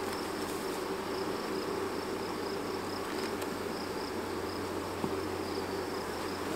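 Honey bees buzzing as they are moved out of a swarm trap: a dense, continuous hum of many insects close by, steady throughout with no talk.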